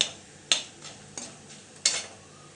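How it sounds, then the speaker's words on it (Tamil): Black pepper and cumin roasting in ghee for pepper aval, with faint sizzling behind a few distinct stirring scrapes and spoon clinks spaced about a second apart, close and fairly quiet. "நெய்லேயே சேர்த்து அப்படியே வறுத்த மாதிரி பண்ணும்."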